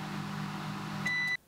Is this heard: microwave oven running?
yes